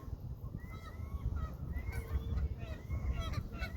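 Geese and other waterfowl honk at a park lake, repeated nasal calls overlapping at a moderate distance over a low rumble of outdoor background noise.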